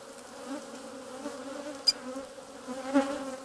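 Honeybees drone steadily around an open hive of capped honey frames, a close, continuous buzz with a few louder passes as individual bees fly near.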